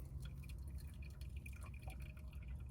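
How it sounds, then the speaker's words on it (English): Liquid dripping indoors while cooking inside a camper setup, quick faint drips in an irregular patter over a low steady background hum, no talking. "that's dripping down"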